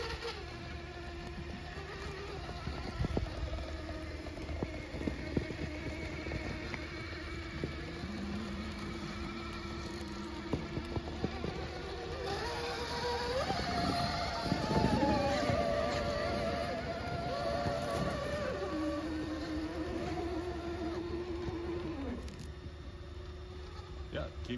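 An Axial SCX6 RC rock crawler drives along the shore at Piper's Lagoon, its electric motor whining and rising and falling in pitch over a long stretch, with outdoor ambience and faint voices in the background.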